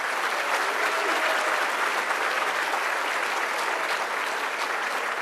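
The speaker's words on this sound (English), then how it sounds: "Your nominees, please, a big round of applause." A crowd at a law enforcement officer awards ceremony applauds the nominees, dense and loud clapping held evenly throughout without a break.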